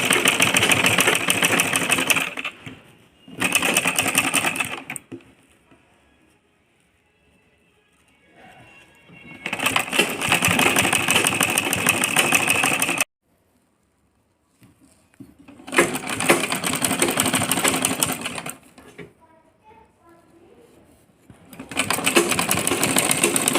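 A sewing machine stitches lace onto a chunni in five loud, rapid runs of motor whirr and needle clatter, separated by near-silent pauses.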